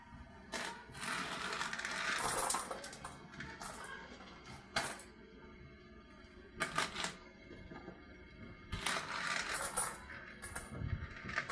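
Old copper and silver coins handled in a small collection, scattered metallic clinks and rustling clusters at close range, quiet with irregular bursts and gaps.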